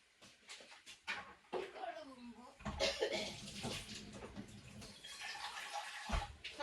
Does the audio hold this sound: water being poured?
yes